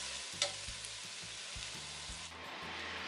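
Vegetables for fried rice frying in a pan give a continuous bright sizzle. A stirring spoon adds a regular scraping rhythm beneath it, close and moderately loud.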